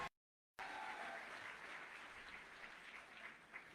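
An audience at a network marketing training event breaks into applause after a brief silence, a steady, fairly faint wash of clapping that lasts throughout without talk.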